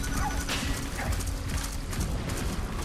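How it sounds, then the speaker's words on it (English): A horse gallops in the video game Tokyo Jungle, with quick clip-clop hoofbeats over a thick, loud game soundtrack. "It was just a horse."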